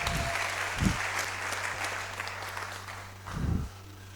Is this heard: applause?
yes